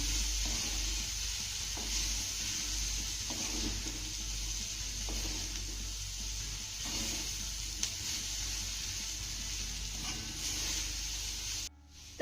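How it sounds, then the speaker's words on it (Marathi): Jowar flour noodles toss with vegetables in a pan over high flame, a continuous sizzle broken by repeated stirring scrapes, close and unvoiced, cutting off abruptly at the end. "हाय फ्लेमवरती आपल्याला ही शेवई भाज्यांबरोबर दोन ते तीन मिनिटं चांगली परतून घ्यायची आहे"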